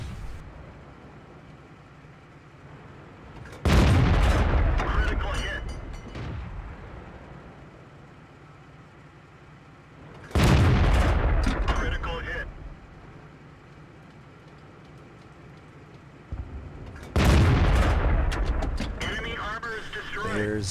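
Video game gunfire in a first-person shooter match: three loud, sustained bursts of heavy gunfire with explosive impacts, each lasting a couple of seconds and separated by quieter stretches.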